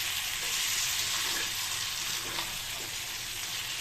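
Water stirred into a simmering potato and pointed gourd curry in a pan, giving a steady close sizzle and bubbling hiss with faint stirring underneath.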